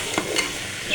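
Ridge gourd pieces fry in hot oil in a pan for a single second, a soft sizzle with a couple of brief stirring scrapes, fairly faint and close.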